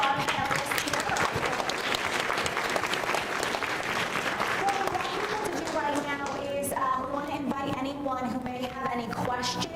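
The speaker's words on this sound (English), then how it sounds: "a big round of applause for our panelists" Audience applauding panelists at a discussion event, dense sustained clapping that gradually thins, with voices talking underneath toward the end.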